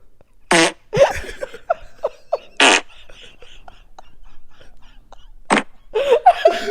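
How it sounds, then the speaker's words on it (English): Recorded fart sounds played back close to a microphone, several loud sputtering bursts spaced apart, with people talking and laughing between them. "An old-fashioned fart."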